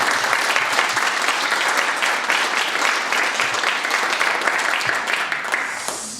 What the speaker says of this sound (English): some thunderous applause, please.